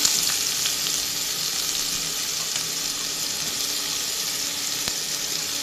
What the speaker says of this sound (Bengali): এখন পরিমাণ মতো পেঁয়াজ দিয়ে দিচ্ছি।